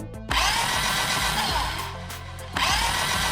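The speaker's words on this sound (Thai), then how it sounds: "เสียงนี้คือเสียงที่พนักงานภาคพื้นดินกำลังปิดประตูห้องเก็บสัมภาระให้เรียบร้อย" Loud, steady mechanical whirring and grinding of an airplane cargo hold door being closed by ground crew, shifting in pitch and intensity as the mechanism runs, with no voices.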